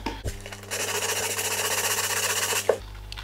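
Sandpaper rubbing over the painted surface of a watch box, a rapid, even, loud rasp of close back-and-forth strokes that runs about two seconds before stopping.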